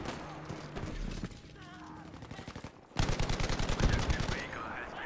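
An M1919A6 Browning machine gun fires in Battlefield V's Pacific setting, rapid sustained bursts of rattling shots, loud and close, with earlier shooting and in-game noise before a dense burst in the second half. A player talks at points.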